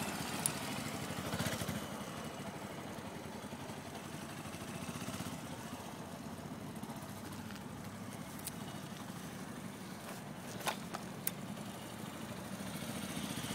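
A motorcycle engine at a riding lesson holds a steady, fairly quiet idle with small throttle swells, and a couple of brief sharp clicks near the end.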